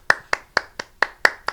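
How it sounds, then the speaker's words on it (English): A person applauds with seven crisp, evenly spaced hand claps in a steady rhythm, close and clear, with no voices. "I'm applauding."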